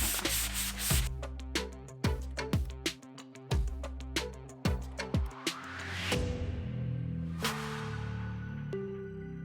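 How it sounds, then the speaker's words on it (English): A wooden butcher block being lightly sanded by hand, with a series of close, sharp rubbing strokes and scrapes in an uneven rhythm, loud and alone with no voices. "We got this butcher block, and the first thing I have to do, I just have to lightly sand it down."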